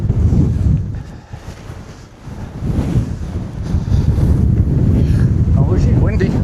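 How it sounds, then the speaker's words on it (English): Strong wind roars across a high, cloud-covered hilltop, buffeting the microphone in heavy low gusts that dip briefly and then surge back, loud and continuous. "Oh, it's windy."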